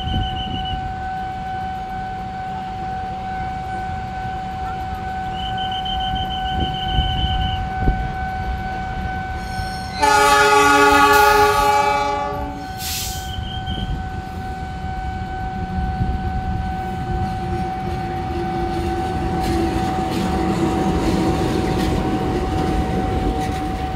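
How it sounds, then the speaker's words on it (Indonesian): The Jayabaya passenger train rolls into track 2 at Pasar Senen station with a steady rumble of wheels and cars, a loud horn blast sounding midway and a lower hum continuing afterward. "Jalur 2 masuk dinas rangkaian kereta api Jayabaya yang nantinya akan diberangkatkan dari Pasar Senen menuju Malang via Semarang-Surabaya"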